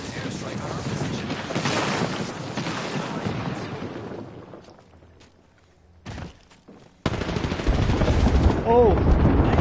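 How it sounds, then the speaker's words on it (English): Video game airstrike hitting a position amid gunfire: dense loud blasts and rapid shots, fading to a lull, then a sharp renewed burst of heavy fire, with brief voices in between. "There's an airstrike on our position."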